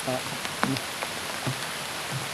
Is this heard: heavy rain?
yes